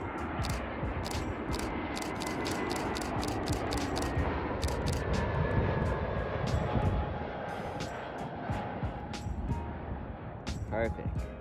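American Airlines Airbus A321 passing at an airport. Its broad jet roar is steady and fairly close, and a voice and rapid camera shutter clicks are heard over it.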